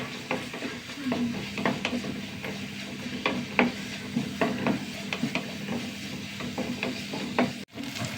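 Sliced onions and three large green chillies fry in a pan, a soft continuous sizzle broken by repeated close scrapes and clicks of stirring.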